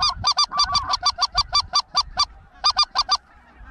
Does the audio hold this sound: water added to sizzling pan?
no